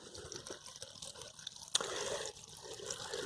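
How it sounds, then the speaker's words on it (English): Water pouring into a bucket packed with plant leaves and weighed down with a house brick: a soft, steady trickling splash, fairly quiet and continuous, with a brief louder splash partway through. "We'll fill all this up with water."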